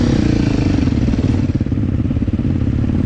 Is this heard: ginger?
no